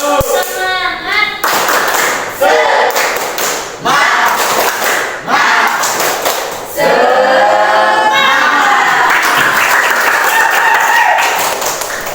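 A high-school history class in Indonesia performs a rhythmic group clapping routine, loud sharp bursts of clapping in patterned groups alternating with children shouting along, close and energetic.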